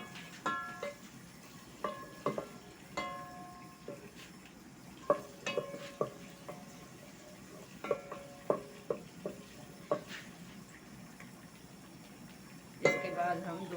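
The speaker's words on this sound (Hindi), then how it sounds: "इसको हम थोड़ा सा रोस्ट करेंगे ऐसे, बस हल्का सा रोस्ट करके।" Ingredients for saag tadka are lightly roasted in a pan, with a spoon clinking and scraping against the metal in irregular taps over a faint sizzle, close up and quiet.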